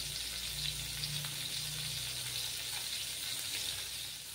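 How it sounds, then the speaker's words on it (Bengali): Fish frying in hot oil in a pan on a stove turned down to lower heat, a steady, close hiss and crackle of sizzling that carries on evenly throughout with no talking. "তেলটা গরম হয়ে গেছে, এবার আমি মাছগুলো দিয়ে ভেজে নেব"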